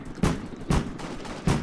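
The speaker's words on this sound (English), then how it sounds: "Stop shooting me." Gunshots in the Roblox Jailbreak video game: three loud, booming shots spaced roughly half a second to nearly a second apart, each with a short decaying tail, close and with no talk.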